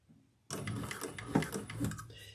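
A sewing machine runs in one continuous close burst, stitching slowly on a Janie-pattern Jasmine handbag, with a faint click before it starts and no voice over the motor.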